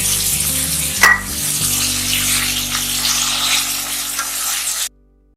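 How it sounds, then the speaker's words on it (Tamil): Chicken pieces frying in a hot pan with ginger garlic paste give a loud, steady sizzle and crackle with a brief clatter early on, running without talk until it cuts off abruptly near the end. "ஸோ இப்போ சிக்கன் ஆட் பண்ணிக்கலாம்."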